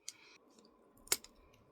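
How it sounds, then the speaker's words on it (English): Scissors snip through a small plastic piece on a DIY photocard wand, giving one sharp close cut after a lighter click, quiet and alone. "I will go ahead and use my scissors."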